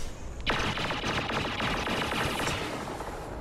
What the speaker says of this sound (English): the first blaster that I show you is the EE3